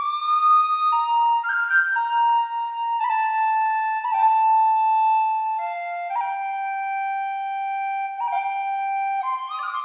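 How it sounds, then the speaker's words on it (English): A bright sampled tin whistle plays a slow melody solo, notes slurred and tongued with ornamented turns, clear and close. "What I love about the tin whistle is the different articulations available"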